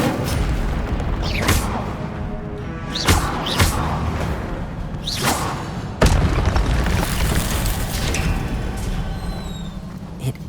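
A fire spell cast in the Hogwarts Legacy video game, sounding as loud booming bursts with crackling whooshes at a few points, over a steady dense backdrop of rumbling game sound.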